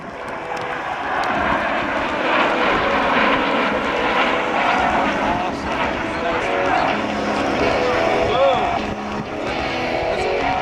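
U-2 Dragon Lady spy plane and T-38 Talon jets passing in formation at a capital airshow, a loud, broad, sustained jet engine roar with steady rumbling noise throughout.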